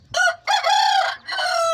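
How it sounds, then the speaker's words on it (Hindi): An Aseel hen calls loudly and close by on a rooftop, a drawn-out crowing cry in three connected bursts. "ये हमारी असील मुर्गी है"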